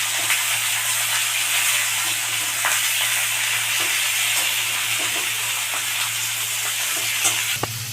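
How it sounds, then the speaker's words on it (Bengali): Chopped onions frying in a pan for a mutton and potato curry, a loud steady sizzle and hiss with occasional stirring scrapes and a low background hum. "এবার আমি পেঁয়াজ কুচানো পেঁয়াজগুলো দিয়ে দিচ্ছি।"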